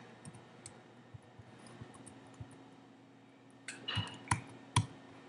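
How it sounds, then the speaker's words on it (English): Computer keyboard typing on a Mac, with soft scattered key clicks that build to a few louder, sharper taps near the end, close by in a quiet room. "So I'm just going to type my IP address in right now."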